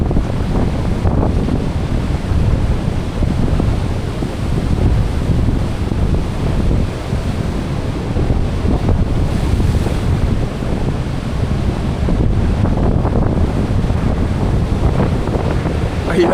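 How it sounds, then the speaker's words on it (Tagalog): Ocean waves crash on the rocks of Biri Island, a loud, continuous roar of surf mixed with heavy wind buffeting the microphone. "Ayan o, yung alon sa taas."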